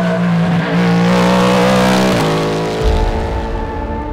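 A Cadillac V-Series hybrid race car on a racetrack in Atlanta, its engine screaming close and loud with a sustained high-revving tone, then dropping pitch as it shifts and roars away, with no talk.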